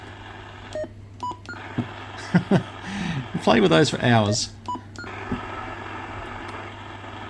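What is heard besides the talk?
CB radio beeps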